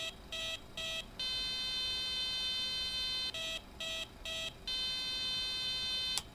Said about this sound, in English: we'll hold it in the test position, look at lights, and then listen for the audible warning